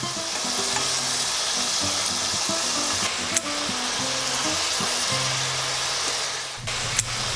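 Pieces of beef browning in a hot pan for boeuf bourguignon, a steady close sizzle and crackle of frying with occasional scraping and tapping as the meat is moved, no voices.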